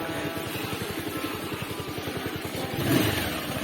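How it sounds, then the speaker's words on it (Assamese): Motorbike riding around the Joysagar tank, its engine putting out a steady, close, throbbing idle-like pulse that swells slightly near the end. "জয়সাগৰ পুখুৰীত কিন্তু বাইক চলি গৈছে, আৰু কোনো নচলায়, আমি চলাইছোঁ অকল"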